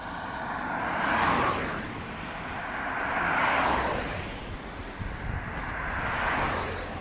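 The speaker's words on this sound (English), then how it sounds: "Traffic makes a lot of noise on the road here." Traffic on a busy street rolls past in three broad swells, each vehicle rising loud and near and then fading, over a constant low roadway rumble with no talk.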